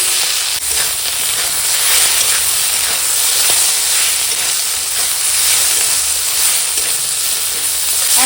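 Food sautéing in a pan after salt is added, for a raw tomato dal and fish curry, gives a loud, constant hissing sizzle with occasional scraping stirs, close and unbroken, with no voices.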